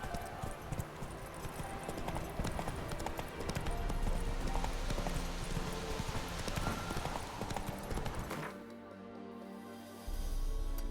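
Hooves of a horse trot in The Witcher 3, a steady rhythmic clip-clop over ambient game sound, breaking off briefly before resuming.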